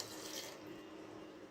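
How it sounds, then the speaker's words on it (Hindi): A brief, faint rush of about a cup of water splashing into a cooking pot of beef mince, soft and close, lasting about a second. "साथ अब मैं यहाँ पर ऐड करूँगी तकरीबन 1 कप के करीब पानी"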